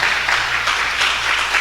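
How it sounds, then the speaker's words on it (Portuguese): A standing congregation claps hard for the word of God during a Portuguese-language church Bible study. The applause is dense and sustained, swelling in rhythmic waves throughout. "Então fiquem todos de pé e vamos aplaudir bem forte a palavra de Deus"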